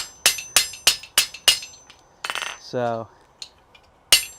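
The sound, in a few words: heavy hammer striking hot metal in smithy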